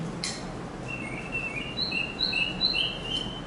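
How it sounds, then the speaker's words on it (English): A bird calls with a series of short, high chirps repeating over a few seconds, fairly faint against a quiet background hiss. "It's a bird."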